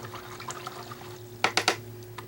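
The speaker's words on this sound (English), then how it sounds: "I'm going to rinse that out" Paintbrush rinsed in a water jar after acrylic painting, giving three quick close splashy swishes in a row over a quiet room hum, with faint dabs of water before them.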